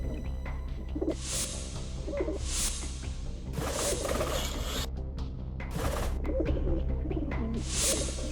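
Pigeons coo softly in steady repeated calls over a low background hum, with occasional brighter bursts of noise around them.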